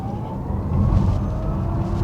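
An Audi e-Tron GT Quattro electric car accelerates hard, its rising electric whine sweeping upward over a loud low road rumble and cabin drone, with no talking.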